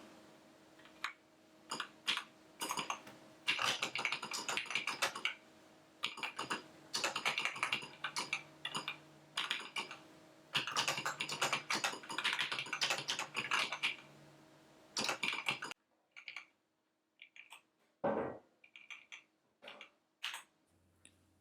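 Fingers type in quick, close bursts on an Atari 800XL computer keyboard, clattering keys forming long runs broken by short pauses, then sparse individual presses near the end.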